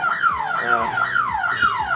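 A loud electronic CCTV security camera intrusion alarm wails in rapid, repeating rising-and-falling sweeps, several cycles in two seconds, close and insistent.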